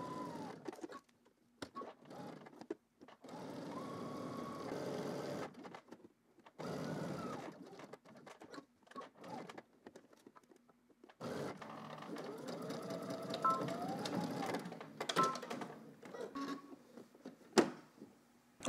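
A sewing machine runs in several bursts stitching a 5/8 inch seam, its motor whirring up and stopping between short quiet pauses, close and clear.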